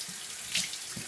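Warm water runs steadily from a sink tap for face washing, a continuous close hiss and splash with a faint patter of drops and no talking.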